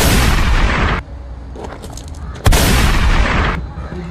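Loud, dense gunfire bursts in a Jamaican action movie, a sustained barrage, a brief lull with scattered shots, then another heavy burst of firing.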